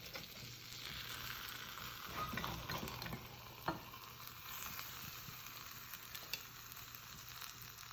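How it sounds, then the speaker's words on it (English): Spanish eggs fry in a pan with a steady, close sizzle and soft bubbling of the last liquid boiling at the edges, plus occasional light ticks and pops, with no voices. "while there's a little bit of liquid at the sides boiling, most of the liquid has boiled out of this"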